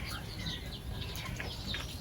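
Starlings perched atop a walnut tree in a Ukrainian village chirp in quick, bright, overlapping calls, moderately close, with a soft rustling background.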